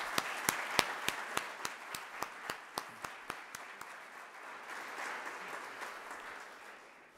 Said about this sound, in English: I'd like to share a round of applause with them.